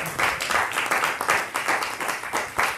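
A church congregation claps in praise during a sermon, a dense, lively burst of hand claps with uneven rhythm that holds steady for a few seconds with no talk over it.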